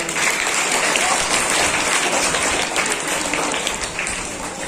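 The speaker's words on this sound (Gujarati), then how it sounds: "તાળીઓથી વધાવો" A crowd at a school student-parliament election result announcement breaks into loud, sustained applause, with dense clapping that runs continuously and fades only slightly toward the end.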